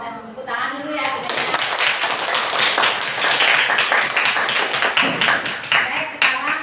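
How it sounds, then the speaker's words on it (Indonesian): A classroom of students clapping together, brisk and fairly loud applause that builds quickly and holds steady, with voices audible at the start and end. "kasih tepuk tangan dulu ya"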